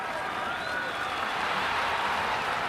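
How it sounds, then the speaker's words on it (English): Crowd cheering and applauding at the Monza circuit in the F1 Manager 24 racing game, a dense, steady roar with no distinct peaks. "There's a big cheer going up."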